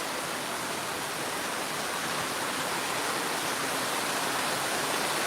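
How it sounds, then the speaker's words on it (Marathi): Heavy cloudburst-like rain pours down in a village, water running over a tarred road, a dense, unbroken roar that stays loud and steady throughout. "गावामध्ये मोठ्या प्रमाणात पाऊस सुरू आहे"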